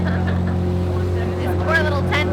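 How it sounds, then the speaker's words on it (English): A boat engine howls at high speed out on Ningaloo Reef, a steady loud drone with rushing water and wind noise, and voices faintly heard over it. "it wasn't long before the engine started howling and we took off in search of our first whale shark"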